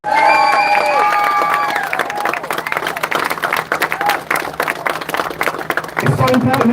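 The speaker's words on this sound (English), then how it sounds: "So put a round of applause together for the Thanet guys" Crowd at a Say No to HMO protest in Broadstairs applauds and cheers, loud outdoor clapping with shouts rising over a speaker's trailing words, then settling into a choppy patter before voices return near the end.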